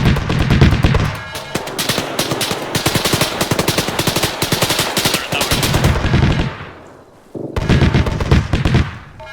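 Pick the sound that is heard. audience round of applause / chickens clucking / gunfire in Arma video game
gunfire in Arma video game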